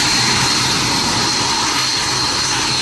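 Military jet aircraft flying during the Cobra Warrior exercise at RAF Waddington, a steady loud broadband roar held throughout without breaks, with no voices.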